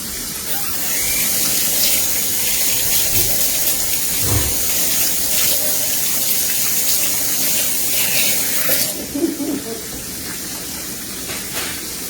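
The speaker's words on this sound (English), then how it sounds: "Let me wash my hands really quick" Water runs steadily from a tap as hands are washed, a continuous close splashing hiss with small shifts as the hands move under the stream.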